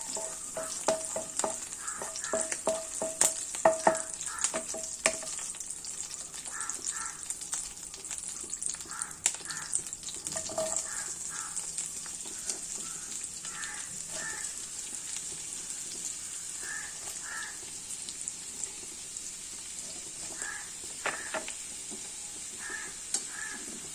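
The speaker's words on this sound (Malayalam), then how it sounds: "പച്ചമുളക് കൂടെ അപ്പോൾ ഇത്രയും നല്ലതുപോലെ ഒന്ന് വഴട്ടും" Green chilies sautéing in a hot pan for a Kerala-style beef curry, a steady close sizzle with scattered sharp crackles and occasional spatula scrapes and taps throughout, no talking.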